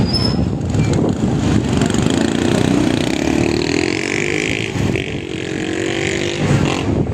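Motorcycles riding up onto Jones Bridge over the Pasig River in Manila, a steady close engine drone with passing whine and traffic rumble throughout, no talking.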